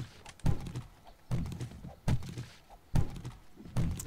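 Tents being smashed apart for cloth in 7 Days To Die, about five heavy, dull thuds landing at roughly regular intervals, each trailing off into a short rumble, close and fairly loud.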